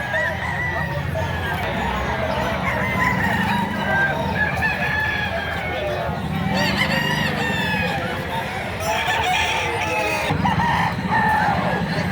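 Roosters crow repeatedly, close and loud, at a chicken sale in Padre Garcia, Batangas, with clucking fowl and a murmur of people talking in the background.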